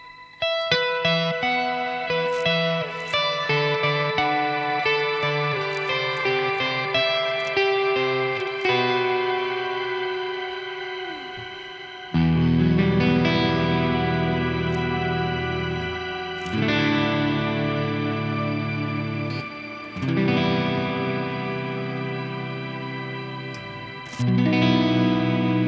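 Electric guitar played through a Neunaber Immerse Mk1 reverb pedal on version B, bold, in-your-face reverb washing over sustained chords and picked notes, loud and close, with lush swelling tails and no voices.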